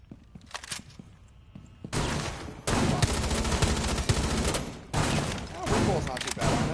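Bursts of gunfire in Rainbow Six Siege, a short early shot followed by loud sustained volleys of rapid automatic fire with a brief pause midway, close and dense.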